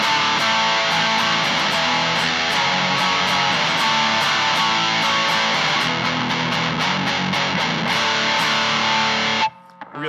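Electric guitar played through a homemade overdrive pedal with the gain fully maxed, a thick, heavily distorted sustained tone with rhythmic pick attacks, loud and continuous before cutting off abruptly near the end.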